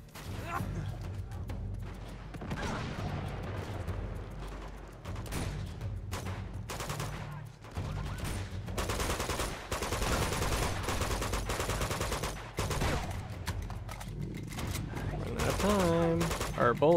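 Gunfire in the video game Uncharted 2: Among Thieves, with bursts of shots and a rattling fusillade coming and going over the game soundtrack, mixed with game effects and occasional voices.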